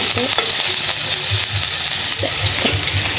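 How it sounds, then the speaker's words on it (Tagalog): Onion sautéing in a frying pan for a Filipino adobo dish, a steady close hiss and sizzle with occasional stirring scrapes and clinks throughout. "dyan ko na nga rin iluluto ang igigisa ang ating sibuyas. Gisahin lang natin ng konti."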